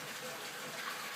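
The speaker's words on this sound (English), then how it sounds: "pumping new water in and going down the drain, and it'll still drain my tank" A pump pushes new water into a cichlid aquarium while it drains, giving a steady close rush of gushing water with no pauses.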